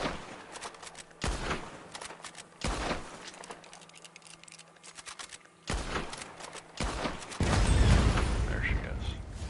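In the Red Dead Online video game, a player-set explosion follows several sharp, loud gunshot-like cracks, ending in a heavier, sustained blast with rumbling debris.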